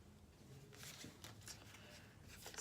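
Tarot cards are shuffled and drawn for a reading, quiet papery riffles and soft slaps in a run of brief bursts, close and faint, with no talk.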